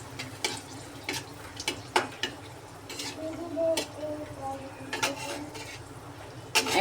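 Dried red chillies fry in hot oil for khichuri tempering, giving a low crackle with scattered sharp ticks and clinks from stirring, close and fairly quiet throughout.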